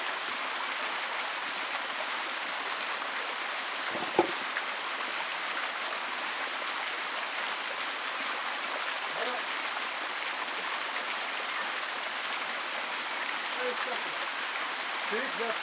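Stream water rushing steadily right beside the camera, a constant close hiss of flowing water with one brief knock near the start.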